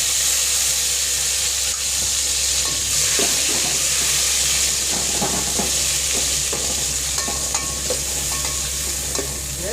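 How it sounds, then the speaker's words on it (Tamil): Onion, a single green chilli and tomato frying in oil with popped mustard seeds for a Tamil fish curry: a steady, close sizzle and hiss with repeated stirring scrapes, and no talk. "வெங்காயம், ஒரே ஒரு பச்சை மிளகாய், தக்காளி."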